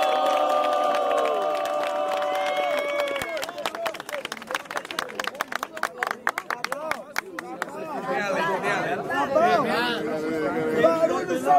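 Crowd at a Brazilian rap battle final erupting in loud cheers and shouts, opening with sustained yelling, then rhythmic clapping and chanting, and building again into excited whoops and screams near the end.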